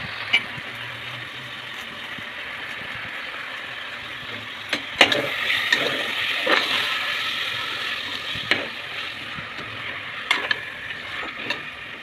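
Mutton bones added to ginger-garlic paste and sautéed in a pan: a steady close sizzle and frying hiss with intermittent sharp scrapes and clacks of stirring.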